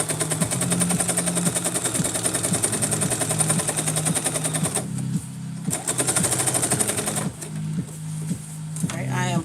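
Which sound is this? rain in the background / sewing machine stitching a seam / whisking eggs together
sewing machine stitching a seam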